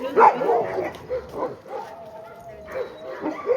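Sled dogs barking and yipping around a rig on a block, with several short barks early on and some whining tones mixed in under ongoing talk.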